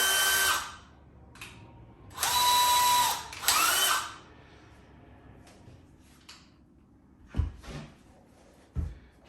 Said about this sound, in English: I think a lot of them's going through on this bigger drill bit